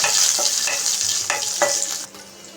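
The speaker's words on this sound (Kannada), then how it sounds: "ಈಗ ಸಾಸಿವೆ ಪಟ್ಪಟ ಅಂತ ಹೇಳಿ ಹೇಳ್ತು" Mustard seeds splutter in hot oil, crackling and sizzling loudly with quick popping spatters and a few scrapes of a spoon in the pan, fading slightly at the end.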